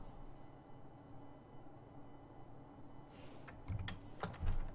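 Computer keyboard keys are pressed while working in Blender, a few soft clicks and taps near the end over a steady low room hum, close but faint, no talking.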